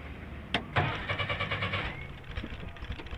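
A 1964 Jeep CJ-3B's carbureted engine cranks with a quick starter click and catches, then settles into a rough, pulsing idle, close by in an industrial park with no talking.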